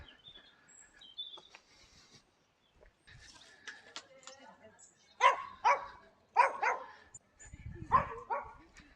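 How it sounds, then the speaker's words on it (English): A dog barks in a series of sharp, fairly loud yaps near the end, after quieter whimpering and soft noises at the start; no talking. "No reaction to being barked at."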